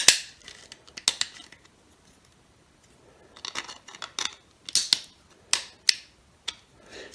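Ratchet mechanism clicking as it is turned, sharp distinct clicks in short bursts with a pause midway, then several spaced, louder single clicks, close and alone.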